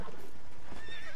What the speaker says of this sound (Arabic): الحصان ذا شكله اقوى من حصاننا